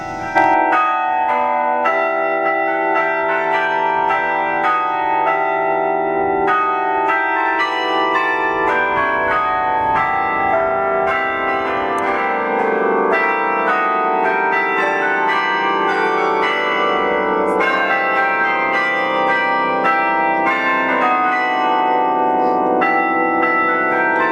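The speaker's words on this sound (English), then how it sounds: "take us up into the bell tower and play the bells for us" Church tower bells, played by hand, ring continuously in a dense, overlapping peal, bright strikes following one another in a steady rhythm, loud and close.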